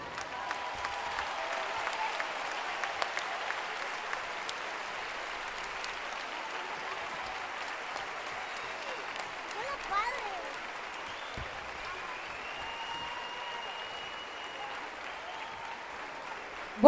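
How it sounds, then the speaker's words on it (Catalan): Applause from a large audience at an end-of-year school party, a steady sustained wash of clapping at moderate level, fairly distant and diffuse across the whole stretch. "Ara sí que us demano aquell fort aplaudiment."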